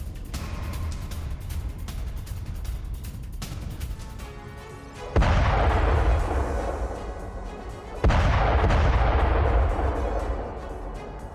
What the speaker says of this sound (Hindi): रूसी काफिले पर यूक्रेन का जबरदस्त अटैक हुआ है